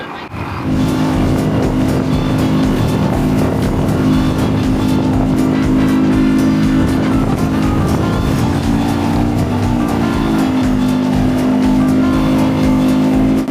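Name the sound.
52 hp outboard motor of Boston Whaler boat running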